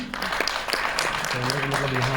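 An audience applauds at a film press conference, steady clapping filling the room over a low tonal hum, with a faint voice briefly present.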